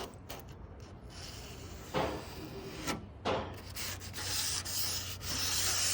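Plumbers sanding tape rubbed along rough metal panel edges: loud, close, rasping back-and-forth strokes, coarse and chunky, forming a continuous scrape with a few sharper surges.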